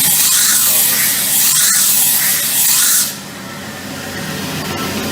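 A Gecam 131 box seam grinding machine works a weld seam, giving a loud, continuous abrasive hiss and rasp close by that drops to a quieter, steadier grind partway through.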